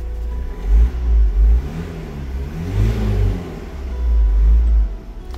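A Ford Tourneo Custom 2.0 EcoBlue diesel van engine idles after a cold start, a steady low rumble with a few gentle swells in revs, close and continuous with no talking.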